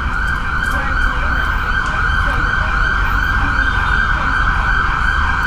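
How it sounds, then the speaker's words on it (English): An emergency siren wails steadily and loudly outdoors in Nassau, holding a continuous tone over background traffic rumble for the whole stretch. "There's a siren."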